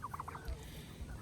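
A turkey gobbles in a quick rippling burst near the start, followed by low rumbling farmyard noise; the birds are raised on a small farm with a tom in the flock.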